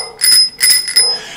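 A bicycle bell rings loud and close, three quick dings in a row with a bright metallic tone, the last fading out.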